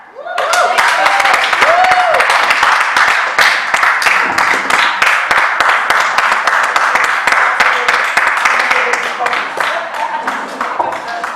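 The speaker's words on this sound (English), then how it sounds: "One more round of applause" An audience at a small business summit breaks into dense, sustained applause, many hands clapping loudly and continuously, with a voice speaking briefly over the start.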